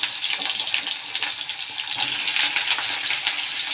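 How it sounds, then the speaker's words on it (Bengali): Potatoes and onions sizzle and crackle in hot oil in a pan, a steady, close, fairly loud hiss with no one talking. "এবার তেল গরম হয়ে গেছে, আলু পেঁয়াজটা দিয়ে দিই এর মধ্যে।"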